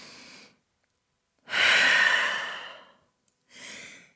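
A person practising yoga in downward dog takes breaths, with a short exhale, a long audible breath after a pause, and then a brief final breath, close and clear.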